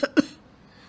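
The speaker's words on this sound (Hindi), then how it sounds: "आपको बड़ी खांसी आ रही है।" A man gives two short, sharp coughs close up, one right after the other. Quiet room tone follows.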